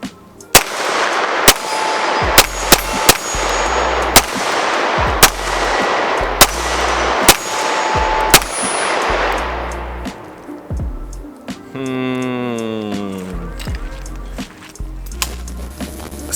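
CZ Shadow 2 pistol fired in a steady string of about a dozen sharp, loud close shots, evenly spaced, followed by a short mechanical rattle and a few final shots.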